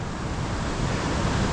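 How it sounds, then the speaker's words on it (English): Vernal Falls in Yosemite, a waterfall running strongly, gives a steady, full roar of rushing water throughout, loud and unbroken with no talking over it. "So this is Vernal Falls. It's flowing pretty good too."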